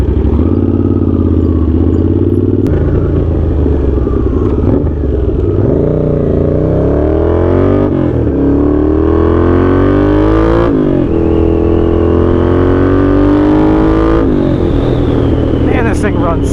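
A Honda GL650 motorcycle engine runs while being ridden, a loud, continuous close drone with rising and falling revs as it accelerates and shifts, plus wind rumble throughout.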